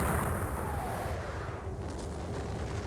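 Napoleonic-era artillery battery firing grape and canister shot in a war strategy game, a dense booming roar that fills the whole stretch and slowly fades, with no talk.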